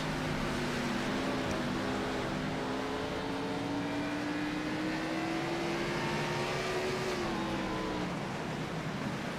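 OSCA stock cars race at Myrtle Beach, a steady loud engine roar with a slowly rising and falling whine as the cars run around the track, continuous throughout.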